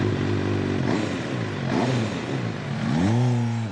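An MV Agusta F4 motorcycle engine revs up and down several times, a close, loud, snarling tone rising and falling in pitch, with a final strong rev near the end.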